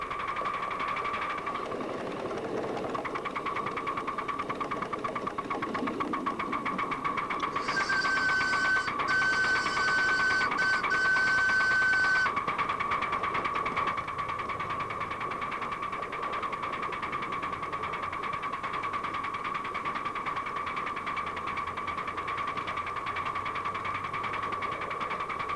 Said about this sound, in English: I'll never tire of running a steam engine.